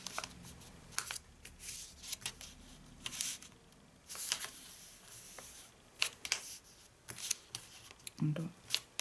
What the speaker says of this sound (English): Now we're going to do a little bit of folding and burnishing